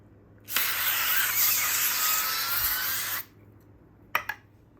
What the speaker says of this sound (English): Spray with some oil.